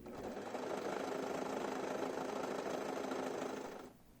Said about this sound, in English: I'm going to overlock the bottom of the hem